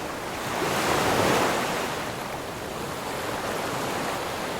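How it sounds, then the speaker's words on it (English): Stormy Atlantic Ocean surf and strong wind on the coast near Porto: a continuous broadband roar of breaking waves and gusts, swelling loudest around the first second, then settling to a steady, close wash with no voices. "This is the Atlantic Ocean, and there's no protection from the wind when it blows in like this."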